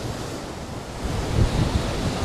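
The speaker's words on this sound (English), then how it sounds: "Which is driving these waves larger and larger, it seems like." Waves driven by a strong southwest wind roll against a beach jetty, a continuous dense wash of surf with wind buffeting the microphone, swelling slightly midway, with no voices.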